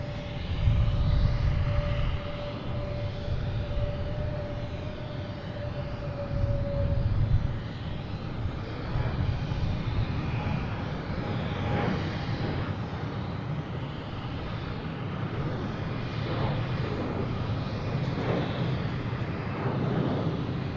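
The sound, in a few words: Delta jet airliner taking off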